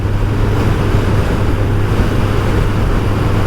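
Steady gale-force wind roars without pause into the microphone of a BMW K100LT motorcycle with sidecar on a ride, a loud, continuous low rumble with no voices.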